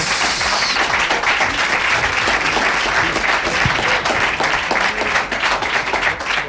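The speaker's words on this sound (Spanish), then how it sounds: "Pues fuerte el aplauso, por favor, para José María Cifuentes." A studio audience at a radio station's programme presentation gives a dense, sustained round of applause for veterinarian José María Cifuentes, loud and continuous with no talk over it.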